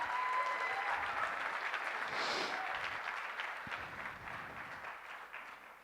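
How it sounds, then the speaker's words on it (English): An audience at a Bangladesh investment presentation claps in sustained, dense applause for the startup ShopUp, loud at first and gradually easing over about six seconds, with no talking. "let's give a big round of applause to ShopUp"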